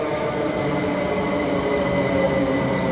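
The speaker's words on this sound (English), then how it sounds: "we've got a Great Western Railway coming through here" A Great Western Railway Class 387 electric train runs through Didcot Parkway station, giving a loud, continuous rumble of wheels and motors with faint tonal whine and squeal, close by and with no talk.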